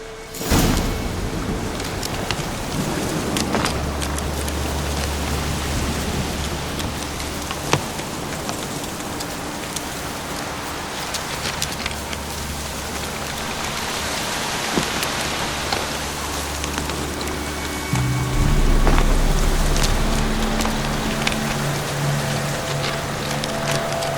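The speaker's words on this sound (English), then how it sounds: "Looks like rain." Steady rain falls across a scene in the video game The Witcher 3: Wild Hunt, a dense hiss of drops on surfaces running throughout, with a low droning rumble joining underneath partway through.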